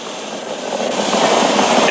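SpaceX Falcon 9 Merlin 1D rocket engines roar as a steady, dense, broadband rush that swells slightly louder, heard as a continuous powerful thunder with no talking.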